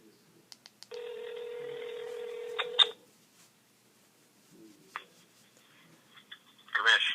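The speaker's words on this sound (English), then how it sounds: "Let's give AJ a call really quick" A phone is dialed to call someone: a long tone sounds for about two seconds, then a few short beeps and key presses follow, fairly close and with no talking.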